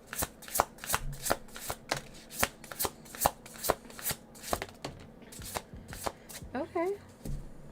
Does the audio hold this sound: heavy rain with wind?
no